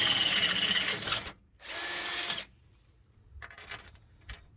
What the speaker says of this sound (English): we're gonna have to drill these holes up to 1/2 inch